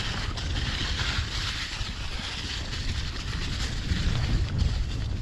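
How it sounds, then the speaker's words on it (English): Steady, loud wind roaring across the microphone during a mountain bike run on a Nicolai Nucleon, a constant rushing buffet with no pauses. "And it's windy this run."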